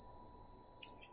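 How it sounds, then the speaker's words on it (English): A steady, thin, high electronic beep from a nearby speaker whines continuously in a quiet room, faint and alone, with no talking. "I apologize for the beeping,"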